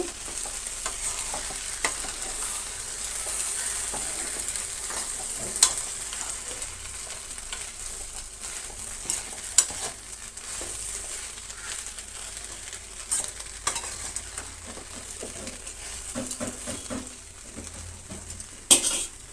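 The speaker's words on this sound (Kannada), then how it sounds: "2 ನಿಮಿಷದಾದಮೇಲೆ ಟೊಮೆಟೊ ಸೇರಿಸೋಣ. ನೀಟಾಗಿ ಕಲಸೋಣ." Okra (ladies finger) and tomato for gojju sizzling in a pan while a spoon stirs them, giving a steady close frying hiss broken by occasional scraping clinks against the pan, with no speech.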